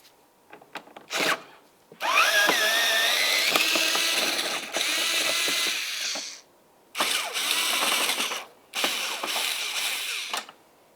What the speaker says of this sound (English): We'll continue on with using a Phillips head, remove this screw right here and the one directly above it.